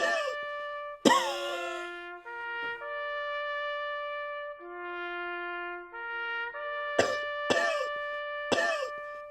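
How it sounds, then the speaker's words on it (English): Sharp, harsh coughs ring out over sustained organ-like tones: one early on, then a quick cluster of three near the end. "Stop coughing."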